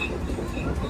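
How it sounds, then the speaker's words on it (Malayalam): A short passenger train running from Rewari to Bikaner rolls past near a level crossing, a continuous rumbling rattle of wheels and coaches, fairly close and steady, with no voices. "ഇത് റീവാഡിന്ന് ബിക്കാനീർ വരെ പോകുന്നൊരു പാസൻ ട്രെയിനാണ്"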